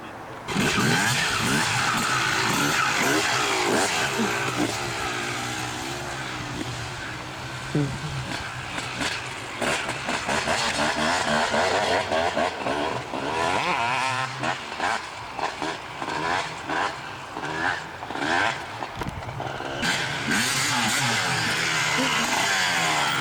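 A motorbike ridden off-road on dirt, its engine loud and close throughout, revving up and down with repeated throttle blips and gear changes over the whole stretch.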